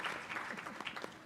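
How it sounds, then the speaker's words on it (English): Applause from an audience at a board of education meeting, a short burst of steady clapping filling the room at moderate volume, with no voices standing out. "You can clap."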